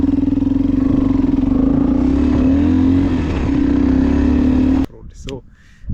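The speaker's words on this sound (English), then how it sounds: "This one has some very good exhaust sound for off-road." A Tekken 250 Evo motorcycle drones loud and close off-road with a steady buzzing exhaust note, then cuts out abruptly near the end.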